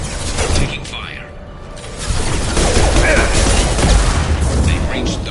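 Gunfire and mechanical clatter during a firefight in the video game Mass Effect 2, bursts of shots and booms under a busy, noisy mix with voices present.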